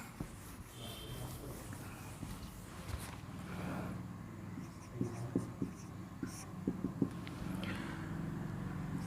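Pen writing out a math solution on paper, soft scratching strokes with a few sharper taps, close and quiet, with a little faint background noise.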